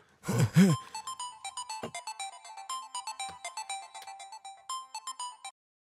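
A melodic phone ringtone plays a repeating electronic tune, preceded by a brief burst of a short vocal-like sound at the start.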